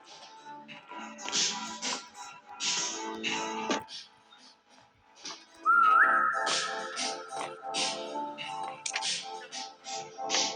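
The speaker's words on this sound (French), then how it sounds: "Quand on siffle, on voit quand les autres sifflent, on voit le pseudo des joueurs." A player whistles in the horror video game SCP 3008, a sustained clear tone rising out of busy game noise and brief clicks, loud and close.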